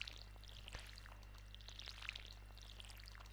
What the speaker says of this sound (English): So we're just going to water this.